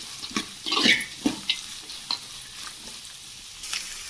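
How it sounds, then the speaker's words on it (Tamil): Vegetables with broad beans sautéing in a pan, heard as close stirring scrapes and bursts of sizzling in several irregular strokes, then a quieter steady fry. "இப்போ இது எல்லாத்தையும் சேர்த்து நல்லா வதக்கிக்கிறேன் ஃப்ரெண்ட்ஸ்."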